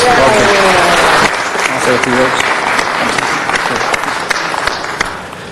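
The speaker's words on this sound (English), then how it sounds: "Let's give him a big round of applause here in the city of Los Angeles." An audience at a Los Angeles city council meeting breaks into loud, steady applause, a dense wash of clapping that slowly fades over several seconds.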